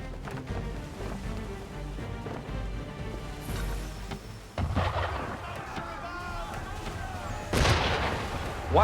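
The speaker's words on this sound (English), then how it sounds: "Why is he shooting at us?" Cannon and gunfire booming at a boat in the game Assassin's Creed III, heavy blasts landing in bursts among churning water and clatter, with a voice talking partway through.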